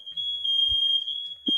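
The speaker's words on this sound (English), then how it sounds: "Mom set off the smoke alarm." A household smoke alarm shrieks in one steady, piercing high tone that holds for the whole stretch, with a couple of brief low thumps and bumps underneath.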